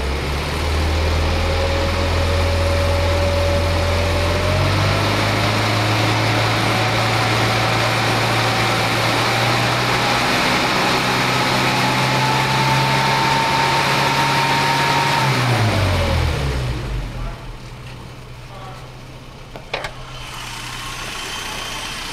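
A loud, steady engine running after a carburettor needle change, its pitch climbing smoothly through the rev range, then dropping abruptly back to a lower idle-like drone, with no talking.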